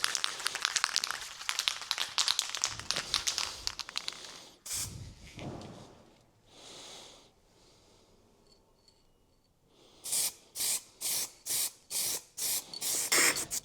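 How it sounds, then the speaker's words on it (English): Spray paint hisses onto a Harley-Davidson Sportster mudguard in a long opening burst, then quiet handling noises, followed by a rhythmic series of short, evenly spaced spray bursts. "I have actually left it a little bit longer so that you can actually see me working the paint around the mudguard"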